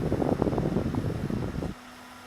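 A steady whirring hum of a cooling fan tray running at high speed, close and fairly quiet, cutting off abruptly near the end.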